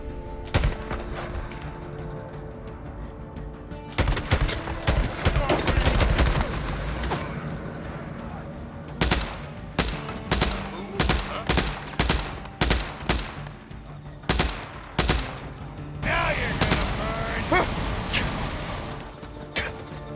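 Gunfire in Days Gone, a video game: a dense early volley, then a run of single loud shots at short, irregular gaps, with a longer rattling burst near the end, all close and punchy.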